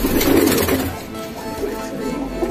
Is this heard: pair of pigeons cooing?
yes